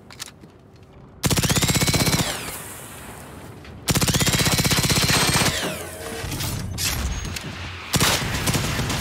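Enemy machine gunfire in the shooter Generation Zero, three long, loud, rapid automatic bursts close by, separated by short pauses, with metallic ringing and softer rumbling between them.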